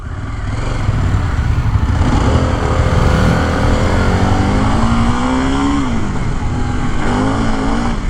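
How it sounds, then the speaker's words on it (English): Harley-Davidson Pan America adventure motorcycle making a fast takeoff on a bumpy road, the engine loud and close, revving up through rising gears with a constant rumble and rushing wind throughout. "That was quite a fast takeoff, and this road is bumpy."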